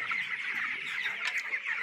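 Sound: chickens clucking in a poultry farm

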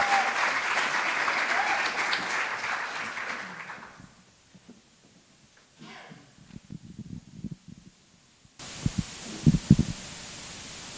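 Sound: audience applause welcoming contestants

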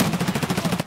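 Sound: gunfire from the video game Escape From Tarkov

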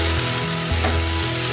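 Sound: mustard seeds and curry leaves sizzling in hot oil

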